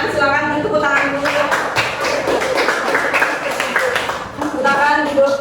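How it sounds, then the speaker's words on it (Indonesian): A classroom full of students claps for a presenting group, the dense patter of hands filling most of the stretch while voices speak over and around it. "Kalau tidak ada pertanyaan, silakan tepuk tangan dulu."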